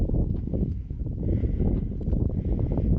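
A chilly southeast wind blows steadily across the microphone outdoors, making a continuous low buffeting rumble with gentle gusts and no voices.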